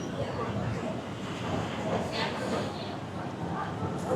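Electric skytrain running past in a Bangkok street setting, a steady broadband rumble and rail noise holding throughout at moderate level, with people talking over it.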